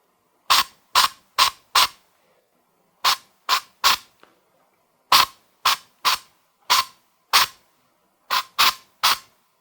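A fine-mist pump spray is sprayed from a distance onto a hat, about fifteen sharp, short bursts in quick groups separated by brief pauses, loud and close in otherwise quiet surroundings.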